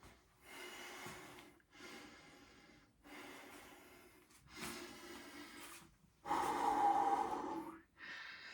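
Heavy, labored breathing in repeated bursts of exhales and gasps after a hard gym workout set, close and loud, with short pauses between breaths and no speech.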